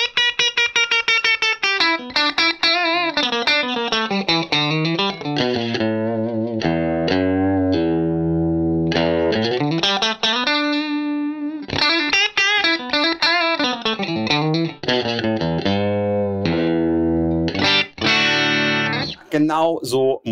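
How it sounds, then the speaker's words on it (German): Twangy bridge-pickup tone from a Stratocaster-style Maybach Stradovari electric guitar played loud through effects, with busy single-note runs and chords ringing close and upfront, without talk. "Und der Steg-Pickup, der jetzt so richtig schön reintwängt."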